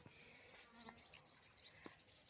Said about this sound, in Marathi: बघा कशा गुंग गुंग गुंग गुंग करतात